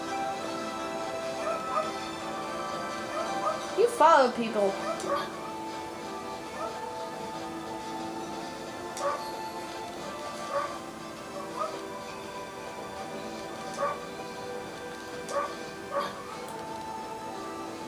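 A dog barking in the video game Okami, one quick burst of barks and yips, then softer scattered yelps with game background noise, while a person talks briefly.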